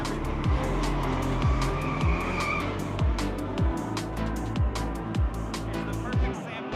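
Drift race cars at Owosso Speedway during a Michigan drifting weekend, engines roaring and tires squealing in repeated sweeping passes, moderately distant, with people talking over the continuous crowd-and-track noise.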